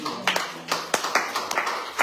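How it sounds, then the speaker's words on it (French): Church congregation applause acclaiming Jesus at the end of a service, a loose, uneven series of claps at moderate distance, with speech mixed in. "on a fini, on acclame Jésus"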